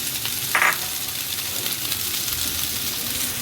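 Chicken and onions sauté in a hot pan for a bread pizza roll, with a steady, close sizzle and a brief metallic clink of a utensil early on.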